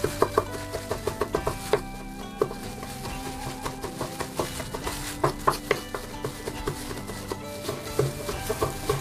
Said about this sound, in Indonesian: Dan kemudian saya cincang.